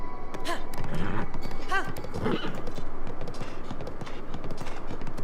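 A horse in Breath of the Wild whinnies and snorts over steady hoof clip-clops, with a constant background hum throughout.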